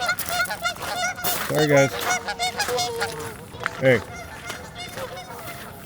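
Geese honk loudly in a noisy flock, with a couple of sharp close calls standing out among scattered honks, while a person briefly speaks over them.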